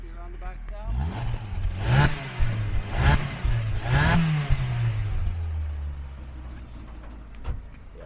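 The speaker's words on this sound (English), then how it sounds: "A little rev around the back" A 1996 Mazda 323F 1.5 twin-cam 16-valve engine idling then blipped in several quick revs that rise and fall, heard from nearby, with voices talking over it before settling back to a smooth idle.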